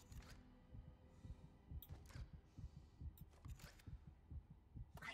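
Isaac's heartbeat in the Dead Space remake, a steady, muffled low thumping repeating about once a second, faint and close against a dark, humming ambience.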